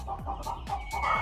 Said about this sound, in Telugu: ఇది ఒక పెట్ట